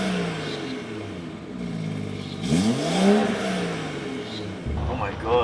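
Engine of a 2016 BMW 740Li sharing the M340i's engine, revving up as the car accelerates. A loud, rising engine note builds and climbs in pitch, then settles, heard close from inside the car.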